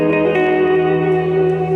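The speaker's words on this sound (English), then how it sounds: "This is a shimmer reverb." A guitar shimmer reverb effect rings out as a sustained, smeared wash of layered tones with a bright octave-up shift in its long tail, steady and loud with no playing attack audible.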